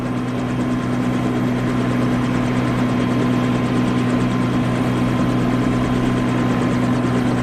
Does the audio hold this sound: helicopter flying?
yes